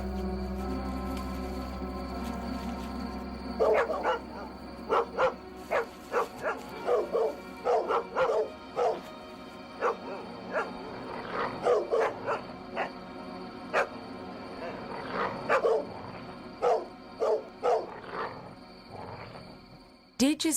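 Dogs bark in short repeated bursts over a steady low rumble in the Australian bush, where a koala mother was fleeing; the barks come in irregular clusters, fairly close and loud, with some voices faintly underneath.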